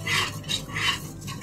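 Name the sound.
stirring milk heating in a pot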